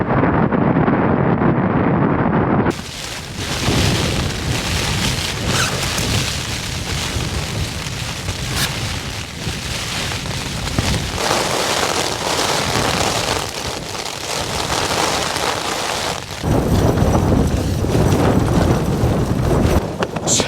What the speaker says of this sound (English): It's quite windy, isn't it?